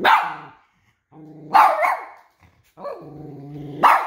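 A dog barks and growls in a few loud, close bursts, each opening with a sharp bark and trailing into a rumbling growl, separated by brief silences.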